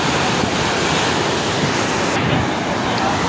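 Water rushing at the Head Marala headworks near Sialkot, a dense continuous roar of churning waves mixed with wind buffeting the microphone, steady and loud throughout.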